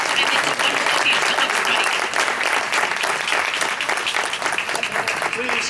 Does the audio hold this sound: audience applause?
yes